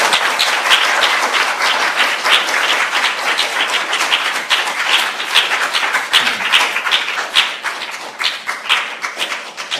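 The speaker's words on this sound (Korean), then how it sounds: "찬양팀한 박수 한번 쳐주십시오" A church youth audience claps for the worship team, a close, lively round of many hands with crisp individual claps standing out, steady and loud across the whole stretch with no talking.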